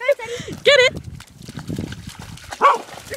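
A dog barks sharply in short bursts, loud and close, with a few gaps of softer rustling and movement between the barks.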